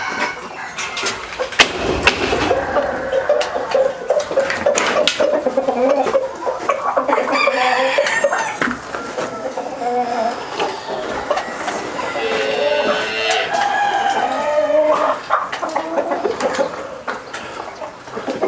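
Chickens cluck busily and a rooster crows at a farm guesthouse, the birds sounding close and continuous while a person talks over them.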